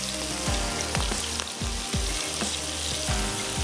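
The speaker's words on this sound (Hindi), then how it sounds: "गोल्डन होने तक हम इसको फ्राई कर लेंगे।" Onion rings fry in hot oil over full heat with a continuous bubbling sizzle. Soft low knocks come at regular intervals, the frying holding at a moderate level throughout with no voices.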